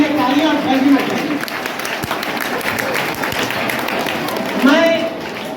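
Audience applause for Adil Ansari at a gathering, a sustained wash of many hands clapping at moderate loudness, with a voice heard over it.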